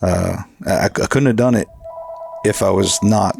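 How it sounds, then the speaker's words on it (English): Telephone ringing in the background during a podcast interview, a steady tone heard in a gap between a man's speech, with talking continuing over it. "So if you hear the phone ringing in the background,"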